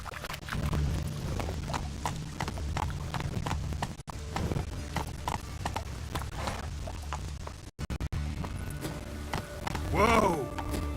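Roach, a horse in The Witcher video game, gallops in a steady rapid clip-clop of hooves throughout, with brief breaks and a short whinny near the end, under a man's occasional speech.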